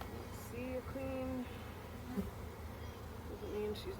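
Honey bees buzzing around an open hive during a summer inspection, several close individual buzzes weaving in and out over a low hum, faint overall.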